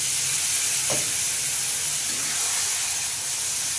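A splash of water hits spice masala frying in oil for a Bengali muri ghanto, bursting into a loud hissing, steaming sizzle that holds steady throughout.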